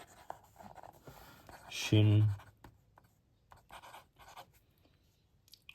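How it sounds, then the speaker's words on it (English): A fountain pen with a medium nib and Pilot Iroshizuku ink scratching across the back cover of a paper notebook, a close dry scraping with one loud burst in the middle and quieter strokes afterward, while a voice speaks softly. "Now that noise is because I'm writing on the back cover of this notebook here."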